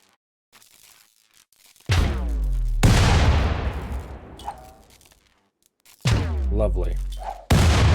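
Video game turrets blown apart in a series of loud, close blasts, each with a sharp attack and a rumbling decay, separated by brief lulls, with one short spoken word among them.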